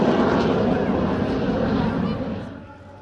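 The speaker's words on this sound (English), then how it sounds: "Next came a solo display by a truly unique aircraft in the Romanian inventory, the IAR-99, the advanced jet trainer of the Romanian Air Force." An IAR-99 jet trainer of the Romanian Air Force flies a solo display at an airshow, a broad loud roar that fades toward the end as the plane moves away, with talk mixed in.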